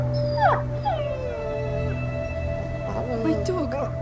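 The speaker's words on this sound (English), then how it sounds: "O cachorro foi ferido." An injured dog in the video game A Plague Tale: Innocence whimpers and whines in several rising and falling cries over a steady low game ambience, close and fairly clear.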